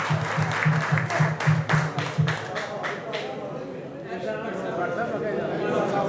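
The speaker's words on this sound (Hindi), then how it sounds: "मेरी तालियां आ रही है" Audience applause with rhythmic clapping in the opening seconds at a lively Punjabi-Urdu stage gathering, fading into crowd noise and chatter.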